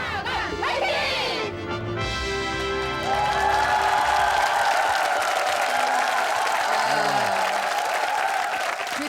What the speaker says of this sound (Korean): 청춘을 조국과 함께했던 이들이 외치는 유격장의 함성.